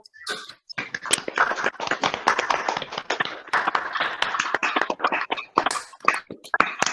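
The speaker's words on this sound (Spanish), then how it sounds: "Podemos abrir los micrófonos para los aplausos." Participants in an online meeting for a course on gender and human rights applaud through open microphones, producing irregular, overlapping hand claps of varying loudness that come in bursts with brief gaps.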